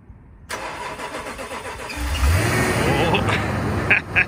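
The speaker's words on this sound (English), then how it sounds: "so let's see how she does for a cold start." A Toyota Tundra regular cab short box pickup cranks and starts cold in winter snow, then settles into a steady, rising engine idle, heard close, with a person talking over it.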